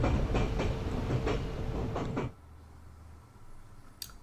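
Simulated train rolling on rails in Train Simulator 2014, a steady loud rumble with regular clacking beats for about two seconds, then dropping abruptly to a quiet low hum with a brief click near the end.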